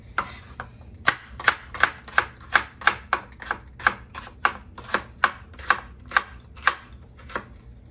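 Knife chopping food on a cutting board during home cooking of a quick meal with blackened salmon, sweet potatoes and sautéed veggies: a steady run of about twenty crisp, evenly spaced chops, close and clear with no talking.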